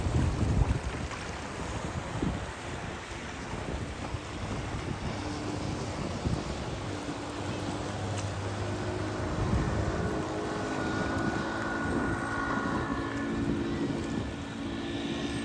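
A flat-bottom boat rides along a river, with steady rushing water and heavy wind buffeting throughout, loud and continuous with no talking.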